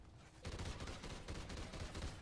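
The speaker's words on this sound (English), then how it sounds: "The gun itself is quite nice, as we'll see here. Submachine gun." Rapid automatic fire from a submachine gun in the video game Extinction, a steady loud burst of fast shots running continuously after a brief quiet start.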